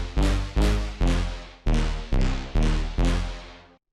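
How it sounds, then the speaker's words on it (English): Bass Mega Brass synth bass sample from an STMPD-style sample pack: seven loud, bright, brassy stabs in a steady rhythm, each decaying quickly, heard alone with no voices. "Bass Mega Brass of That is one of my favorite basses in the pack."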